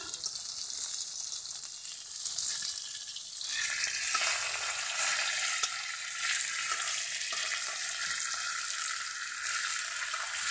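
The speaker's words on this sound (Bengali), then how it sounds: "এদিকে মাছগুলো ভাজা হচ্ছে" Fish sizzles steadily in hot oil, a dense crackling hiss that swells a little louder partway through, with occasional stirring, close and continuous with no talking.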